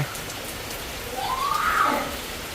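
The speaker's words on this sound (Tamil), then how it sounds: "ஒரு 5 நிமிஷம் பெஞ்ச மழை தான் போலவும் அதுக்கு எவ்வளோ தண்ணி வந்துட்டு இருந்தா பாருங்க" Rain falls in a village in Jaffna with an even, soft hiss, while a brief tonal sound swells and fades partway through.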